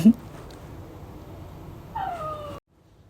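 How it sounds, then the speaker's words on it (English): A pet dog at the door of a home, giving a short, close, high whining whimper near the end after a faint sound at the start, then silence. "oh, my dog's back at my door."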